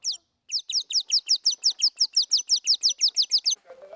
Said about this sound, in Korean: 진짜 새가 날아와서 지저귀는 것 같은데요